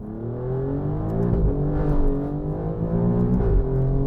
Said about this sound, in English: So we're going to do a hard acceleration right now.